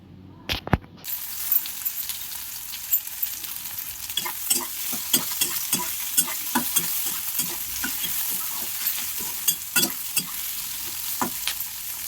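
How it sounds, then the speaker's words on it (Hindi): Onions fry in oil with mustard seeds and green chili, crackling in a steady sizzle while a spoon scrapes and clinks against the pan in a repeated, uneven stirring rhythm; a couple of sharp knocks come near the start. "प्याज के टिके हल्का फ्राए करमा"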